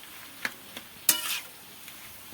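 Boiled cabbage is stirred into spice paste frying in a pan in a village-style Bengali cabbage and fish-oil dish, giving a soft sizzle with a few scraping spoon strokes and one brief louder hissing burst.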